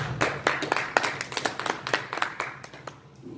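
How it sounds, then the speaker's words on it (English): A church congregation claps hands together during a Sunday evening service, with quick, rhythmic, fairly close claps that run steadily for about three seconds before trailing off. "I'll give the Lord a hand clap."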